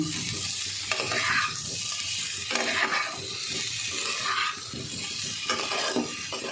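Butter garlic potatoes fry in a pan with a dense, continuous sizzle, and a spatula stirs them in slow, regular sweeping strokes about every second and a half, with no speech.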